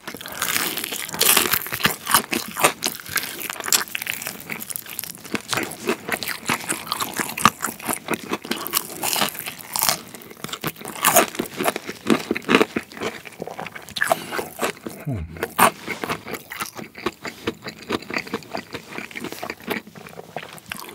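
Close, loud crunchy chewing and biting of a fried rice burger with spicy kimchi, dense continuous crackles and crunches with no talking.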